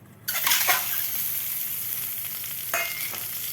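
Eggs dropped into hot oil in a pan set off an abrupt loud sizzle that settles into a steady crackling fry, swelling again briefly near the end, close up with no voices.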